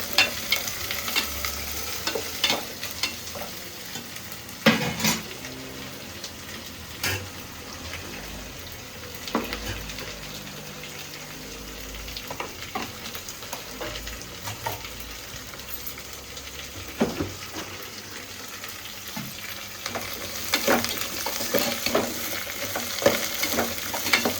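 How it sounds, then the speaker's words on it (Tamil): Food cooks in hot oil in a pan, giving a steady, hissing sizzle that fills the whole stretch. Occasional sharper taps and stirring knocks break through it, and the sound stays close by with no voices. "அதனால் பாருங்கள், எண்ணெயில் நல்லா வேகுது"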